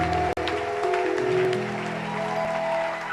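A church congregation at a spiritual gathering applauding, dense continuous clapping and cheering with a brief sharp break near the start and sustained tonal voices mixed in.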